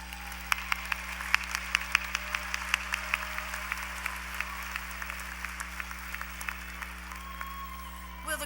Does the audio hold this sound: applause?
yes